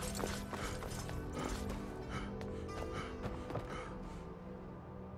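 Hooves clip-clopping on the ground in Skyrim, a steady run of taps and soft thuds over a dense game background, moderately near with no talk.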